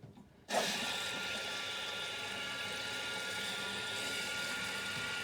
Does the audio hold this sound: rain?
no